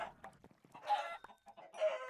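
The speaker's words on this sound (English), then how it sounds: "Don't kill all the chickens." Minecraft chickens cluck in short, separate bursts, fairly clear and close, with quiet gaps between calls and no speech.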